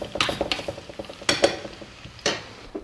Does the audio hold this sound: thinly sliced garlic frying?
yes